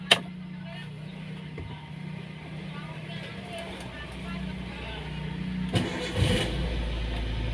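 After its starter brushes are replaced, a Toyota Avanza engine is cranked and catches near the end, settling into a low, steady idle; voices talk quietly during the clip.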